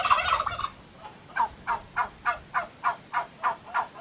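A domestic turkey gobbles loudly up close on a smallholding, then a steady series of about ten short rhythmic gobbling calls follows, evenly spaced.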